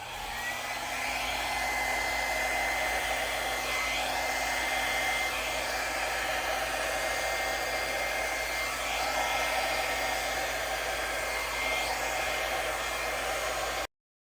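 A small mini hair dryer blows over acrylic paint on a canvas with a steady whirring hiss and low motor hum, close and unchanging, then cuts off at the end.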